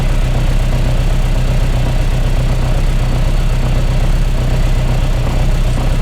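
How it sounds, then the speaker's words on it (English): The 8-port engine of a Mk1 Austin with an Arden head idles unevenly as the idle control hunts. It makes a steady, close, loud rumble with no talk. "You see the idle's jumping around all over the place, which is the idle control coming into effect."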